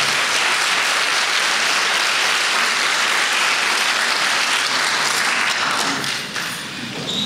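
Sustained audience applause for a political speech, dense and loud throughout, tapering slightly near the end, with no voices over it.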